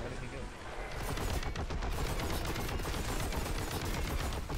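Heavy bolter fire in Warhammer 40K Boltgun, a sustained stream of rapid booming shots with dense rattling impacts, loud and continuous, with someone talking over it.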